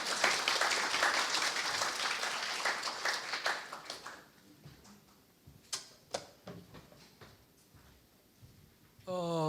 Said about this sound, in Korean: 정근식 교수님을 뜨거운 박수로 모시겠습니다.